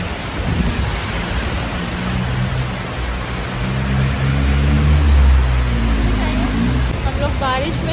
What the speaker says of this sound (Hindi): लेकिन अब इतना तेज़ बारिश आ गया